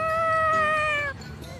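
A cat in the video game Tales of Xillia 2 gives one clear, drawn-out meow, loud and close, tapering off after about a second.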